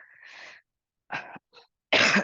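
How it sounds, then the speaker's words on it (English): A few short, harsh coughs in separate bursts, close and fairly loud, with silence between them. "And I might occasionally cough because I'm still sick"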